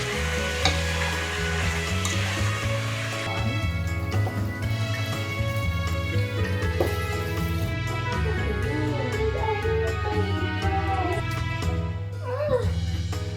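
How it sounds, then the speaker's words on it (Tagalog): Pork fries in a home kitchen pan with a soft continuous sizzle and occasional stirring, partly masked by background music with sustained tones and a melody running throughout. "I'm actually frying the pork na."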